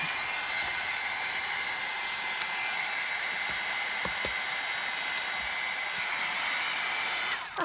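A hair dryer blowing on wet paint in a mixed media journal, a loud, steady whooshing drone that holds constant for the whole stretch and cuts off at the end.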